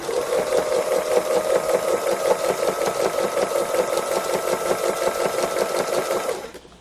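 A sewing machine stitches free motion embroidery of a cow, running in a steady rapid mechanical patter at close range for several seconds before stopping abruptly near the end.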